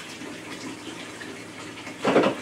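Tap water runs over freshly picked garden spinach, kale and lettuce, a soft steady splashing close by that swells into a louder gush near the end.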